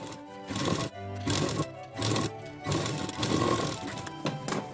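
A sewing machine stitching a plain blouse runs in close, loud bursts of rapid mechanical chatter, pausing briefly between runs as the fabric is folded and repositioned.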